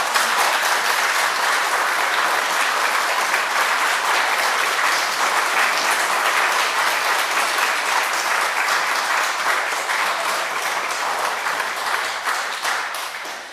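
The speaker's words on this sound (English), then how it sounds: "thank you for the applause" Sustained audience applause at a lecture hall talk, dense and even clapping that holds steady for over ten seconds before tapering slightly at the end, with no speech over it.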